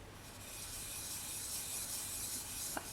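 A fingertip rubs and swirls pastel onto polymer clay, making a faint, continuous soft rubbing close by with no talk.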